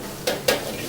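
Fennel seeds, ginger and garlic dropped into hot oil for a Kerala meat masala, giving two quick sizzling bursts over a steady background hiss, close and fairly loud.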